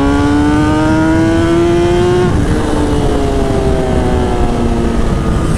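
A Kawasaki ZX-10R superbike engine hums close up while riding on a rough road, a loud sustained tone whose pitch rises steadily, drops at a gear change, then climbs again under wind noise.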